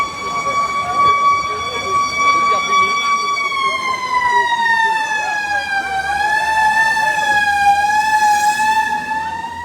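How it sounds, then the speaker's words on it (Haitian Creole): A fire engine siren approaching a large street fire in Cap-Haïtien, a loud, close, steady wail that keeps rising and falling over a bed of crowd noise. "C'est les pompiers qui viennent là."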